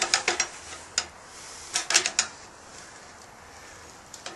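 Metal screwdriver prying a gasket out of a steel ammo can being converted into a tent stove: a cluster of sharp scraping clicks and clacks near the start, another burst around two seconds, then near quiet.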